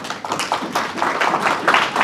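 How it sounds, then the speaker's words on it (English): Audience applause welcomes a guest speaker at a college expert talk, a steady wash of many hands clapping at moderate distance for about two seconds, with no voices over it. "please give a big round of applause for our guest"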